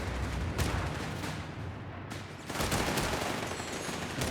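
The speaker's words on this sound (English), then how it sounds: "Responding to the German automatics with automatics of his own." Automatic weapons chatter in rapid bursts amid a Company of Heroes 3 battle, with dense rattling fire and heavier thuds layered over constant combat noise, and no voices.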